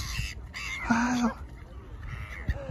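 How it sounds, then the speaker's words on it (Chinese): Seagulls at a seaside feeding spot give a harsh, drawn-out squawk with a few shorter calls around it, close and clear over outdoor background noise. "这海鸥。"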